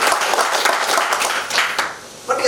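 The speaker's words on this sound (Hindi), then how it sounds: "ताली बज सकती है?" An audience at an investor meet presentation applauds, dense steady clapping from many hands that thins out near the end.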